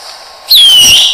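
A bottle rocket launches with a sudden close whoosh and a rising whistle that holds for most of a second, after quiet outdoor background.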